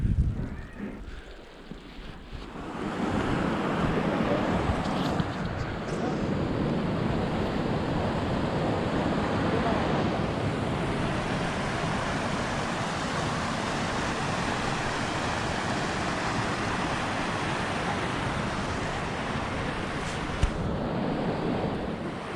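The Lidder river, fed from Sheshnag, rushes through Betaab Valley in a loud, continuous broadband roar of flowing water, steady after a brief quieter start, with some wind noise and no talk.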